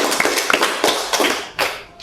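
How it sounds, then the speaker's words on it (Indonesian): A small group gives scattered applause during a student podcast, with a few uneven claps and taps over about two seconds, close and fairly sparse. "Kita aplaus lagi gak sih?"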